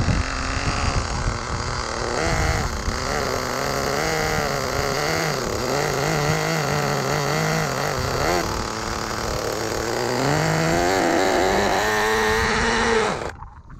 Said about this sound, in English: it burns the clutch and over revs the engine